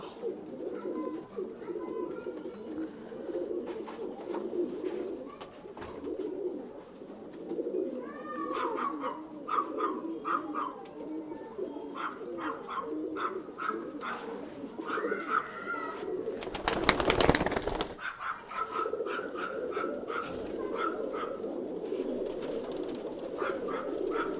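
Old-bloodline pigeons kept for sale in Bangalore, a steady low murmur of cooing from many birds with scattered chirps and wing flutters, and one louder burst of noise partway through.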